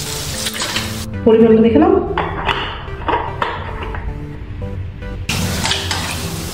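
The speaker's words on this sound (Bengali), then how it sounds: "আর একটু পড়বে জল" Water poured into tomato soup sizzling in a pan, a brief loud hiss and splash that settles into steady bubbling and frying under a spoken voice.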